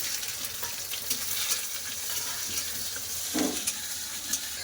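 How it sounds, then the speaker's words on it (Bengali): Chopped onions frying in a pan with bay leaf and tempering spices, a continuous close sizzle with occasional stirring scrapes and one brief louder spatter. "পেঁয়াজ খুব ভালো করে ভেজে নিয়েছে"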